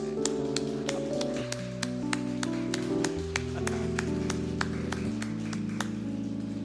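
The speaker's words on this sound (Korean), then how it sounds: "우리 한번 자리에서 일어나서 우리 축복의 박수로 환영할까요?" A congregation stands and claps in welcome during a church service, the steady, rhythmic handclaps keeping time over sustained keyboard or organ chords that fill the room.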